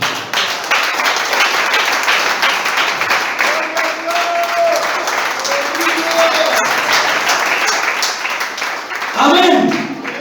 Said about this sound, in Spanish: Aplauda conmigo.